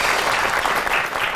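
Studio audience applause welcoming a band onto a Pakistani comedy talk show, loud, dense and steady clapping running throughout the short stretch.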